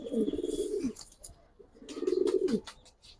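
Pigeons cooing inside a loft of Giribaz and colouring pigeons, two clear, moderately close bursts of soft rolling coos separated by a pause, with faint high chirps and rustling in the background.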